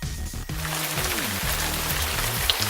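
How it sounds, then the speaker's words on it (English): Light rain sprinkling outside on a dark, cloudy night, a faint continuous patter of drops under a few low tonal hums and a brief thump near the start. "I feel sprinkles of rain right now."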